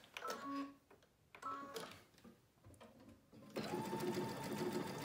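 A sewing machine running a big stitch with sideways and forward movement; close rhythmic clattering comes in two short bursts with pauses between, then a steadier whirring hum at the end.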